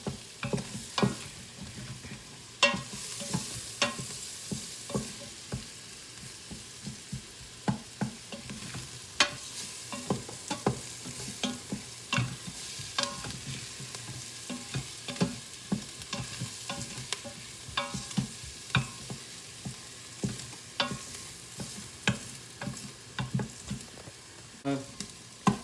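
Spices frying in a pan for Indian-style chana masala, a soft steady sizzle broken by frequent light clicks and scrapes of stirring, close and moderately quiet.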